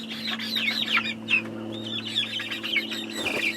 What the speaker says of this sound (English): now I've got 20 chickens in here.